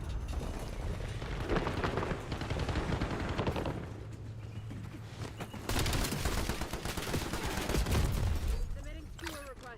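Rapid gunfire from the Black Ops 7 video game, dense bursts and volleys of shots running nearly continuously and loudly over a droning game soundtrack, with brief lulls between exchanges.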